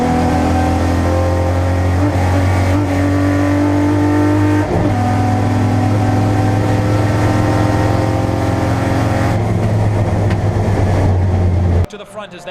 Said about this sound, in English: that car is revving in its own